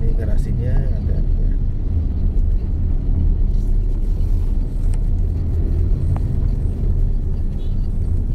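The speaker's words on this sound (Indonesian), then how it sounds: "Memang masih banyak ya mobil di sini pada mungkin pada manuver yang pada selesai muat" Cars and trucks maneuvering after loading at a truck depot garage by the Jakarta–Cikampek toll road, giving a continuous low engine rumble with a voice talking over it.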